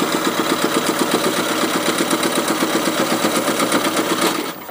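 Sewing machine bar tacking fabric for a face mask, a fast, even mechanical stitching rattle running close and loud for several seconds before stopping abruptly at the end.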